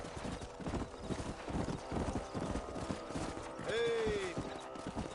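Horse hooves clip-clop steadily in the Red Dead Redemption video game, a continuous rhythmic trot with a brief whinny near the end, mixed with background game sounds and some talk.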